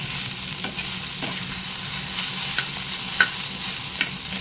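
Teasel gourd (kakrol) and onion fry in a pan with a steady, close hiss of oil. Soft clicks from stirring break in every so often, and no one speaks.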